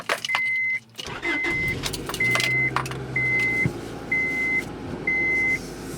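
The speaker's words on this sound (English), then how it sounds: "Alright, start the vehicle up, turn the wheel all the way to the right." A Honda Accord with its engine started and idling, heard as a steady close engine drone underneath a loud repeating electronic chime that sounds six evenly spaced times.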